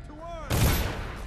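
A sharp gunshot blast fires in the video game Dishonored, cutting in abruptly after a brief tonal sound and leaving a loud, ringing decay.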